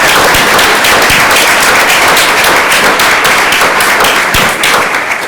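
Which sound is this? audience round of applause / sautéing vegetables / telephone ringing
audience round of applause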